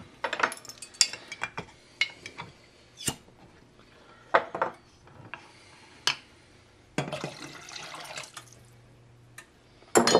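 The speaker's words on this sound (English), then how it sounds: "I'm going to add the soup stock to that to heat it up." Soup stock is poured into a roux in a pot, with intermittent splashing, liquid pouring and clinks of metal utensils against the pot, close by and without talk.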